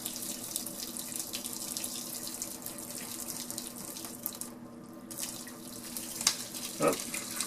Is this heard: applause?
no